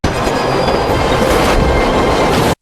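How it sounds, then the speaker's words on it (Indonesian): Loud rumbling train in a movie scene from The Matrix, a continuous roar of rail wheels with clattering and faint metallic squeal, close and steady for the whole stretch without any talk. "Smith berencana membunuh Neo dengan kereta api"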